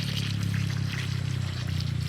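Water being poured to water plants, a steady, close splashing pour that runs unbroken with a slight surging rhythm.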